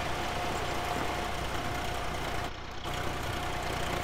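In Farming Simulator 19, a Swaraj 735 tractor engine drones steadily at a constant low idle-like hum, unbroken and moderately loud throughout with no talk.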